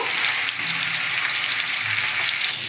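Spices with salt and turmeric fry in a pan for a homemade bata fish curry, a steady close sizzle with soft crackles and a brief dip in the middle, no voices.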